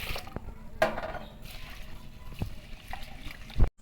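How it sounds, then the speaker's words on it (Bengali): Rice is swished and rinsed in water in a home kitchen while making pulao, with continuous trickling and splashing and a few clinks against the pot, at moderate level with no talk. "সবার আগে চালটা ধুয়ে নেব"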